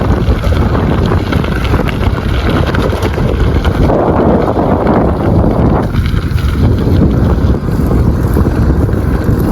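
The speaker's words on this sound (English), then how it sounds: "It's so windy out" Strong wind buffets the microphone continuously during gravel riding in Shawnee National Forest, a loud roaring rumble with no break throughout.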